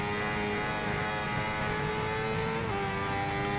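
A Kawasaki H2R superbike in the Ride 2 racing game holds a high, steady, buzzing engine note at high revs in second gear, loud and continuous throughout, with a slight drop in pitch near the end.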